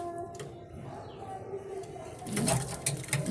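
Male racing pigeons in a loft give soft, low cooing calls at close range, with rustling and flapping wings growing busier toward the end.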